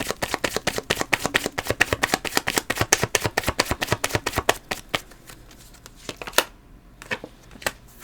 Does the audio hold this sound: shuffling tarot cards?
yes